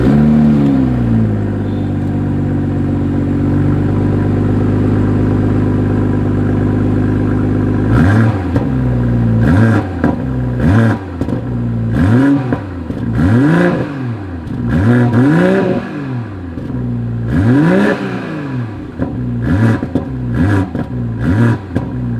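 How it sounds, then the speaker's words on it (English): A 2021 BMW 4 Series Coupe's exhaust in sport mode, first a steady loud idle, then a run of sharp, repeated revs climbing and falling in quick bursts, close and alone. "As always, here is that exhaust clip."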